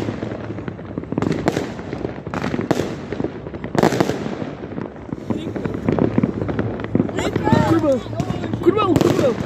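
New Year fireworks bursting over a city, a continuous barrage of loud cracks and booms with overlapping pops, while people talk and exclaim throughout, with a few higher voices near the end.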